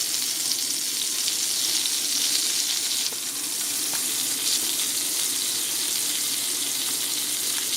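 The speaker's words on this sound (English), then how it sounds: "That nice sizzle. Look at that sizzle." Steady crackling sizzle of butter melting and frying in a pan on the stove for French toast bites, continuous and close, with no talking.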